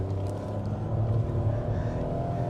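Deep, throaty engine roar of a car, rumbling steadily and close with a strong low growl that swells slightly midway, without any talking.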